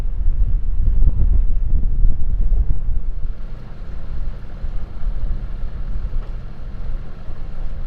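A ferry passes on the water near Russell, its low engine rumble steady and moderately close beneath heavy wind buffeting the microphone.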